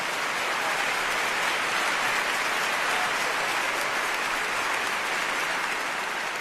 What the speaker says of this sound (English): Champagne bottles and cheering.